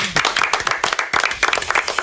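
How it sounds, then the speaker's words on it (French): A small group of people clapping close by, a dense, uneven patter of hand claps for a couple of seconds with a little background chatter. "moi je pense qu'on peut l'applaudir"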